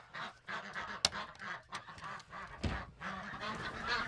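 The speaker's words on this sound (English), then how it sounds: "I'm going to let the ducks out because they are being super loud" Domestic ducks and geese on a homestead quack and honk loudly at dawn, a busy near chorus of overlapping calls with one sharp cry partway through.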